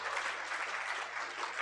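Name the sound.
audience applause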